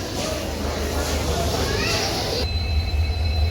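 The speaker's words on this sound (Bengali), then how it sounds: "এই যে ট্রেনটা দিয়ে এসেছি" A train rumbles low and steady at a platform of Agartala station, with faint wheel squeals and indistinct voices in the background.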